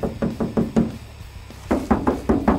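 Knuckles rap on a thin aluminium body panel of a Toyota Land Cruiser 300, giving two close, crisp bursts of about five quick knocks each with a short pause between them.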